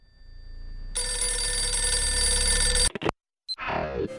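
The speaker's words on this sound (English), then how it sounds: "reaches for the ringing phone" A telephone bell rings in a study in one long, steady electronic trill, close and clear, then stops abruptly and is followed by a brief clatter as the receiver is lifted.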